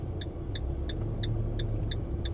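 Car engine idling steadily as the clutch is released during a hill start with the handbrake, a low continuous rumble overlaid by a regular series of short chirping beeps.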